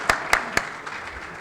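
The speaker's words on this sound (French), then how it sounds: "Encore sous vos applaudissements" Three sharp claps ring out at a French-language scientific forum on financing, spaced unevenly over a second and a half, then give way to a quiet, fading room.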